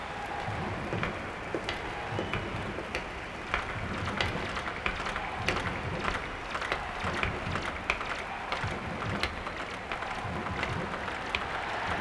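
A cartoon stadium crowd before a school-versus-monsters match: a steady wash of clapping and cheering, dense and continuous with scattered sharp claps, loud and evenly sustained with no clear voices standing out.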